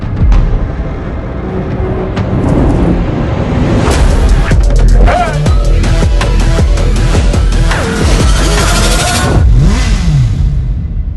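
CF Moto 500SR Voom sport motorcycle engine revving loudly and close, with repeated throttle blips rising and falling in pitch through a busy clattering background.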